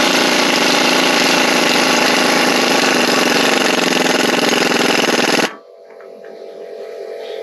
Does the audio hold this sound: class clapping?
no